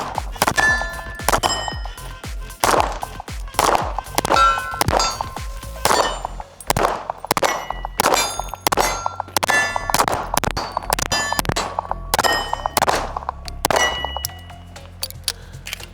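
Gunshot impacts from a Reaper rifle ring out on steel targets in a windy outdoor range, a rapid series of sharp metallic clangs and dings with lingering ring, steady and fairly close, with no talk.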